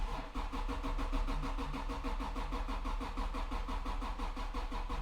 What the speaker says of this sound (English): We get a lot of cranking.